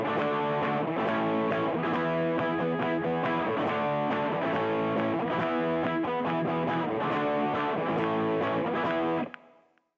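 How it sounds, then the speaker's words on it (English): Heavily distorted electric guitar plays rhythmic chords with a driving strum pattern for several bars, loud and saturated, then stops and rings out. "let's try that same example now with a whole load of distortion."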